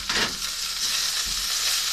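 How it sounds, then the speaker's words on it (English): Diced chicken squares fry for a stir fry on a camping stove aboard a Princess 38 boat, a loud, close, steady hiss and sizzle with a brief stir near the start, no talk. "I've diced it into squares so that I can cook it one side and then turn it over"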